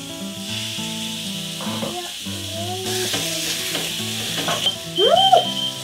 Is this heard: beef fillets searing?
yes